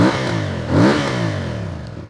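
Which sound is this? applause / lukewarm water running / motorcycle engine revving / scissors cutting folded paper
motorcycle engine revving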